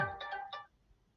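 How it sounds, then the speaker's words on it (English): A short phone text-message ringtone, a quick run of three or four bright electronic chime notes that plays once and fades within about a second, fairly quiet and heard on its own. "So I just got a text come through"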